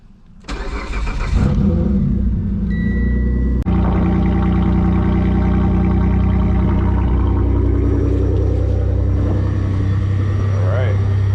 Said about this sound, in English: we are gonna start the wife's Evo real quick